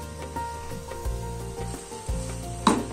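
Noodles sizzle and fry steadily in a hot pan just after sauce is poured in, with a few louder spits and stirring scrapes punctuating the continuous crackle; no talking.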